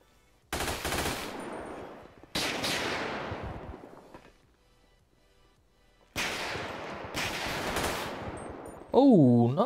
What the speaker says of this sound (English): all of a sudden I was just being shot at